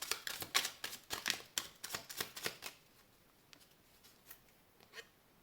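Tarot cards being shuffled for a reading, a close, quiet run of quick crisp riffling snaps that is busiest in the first half and then thins to a few scattered taps, with no talking.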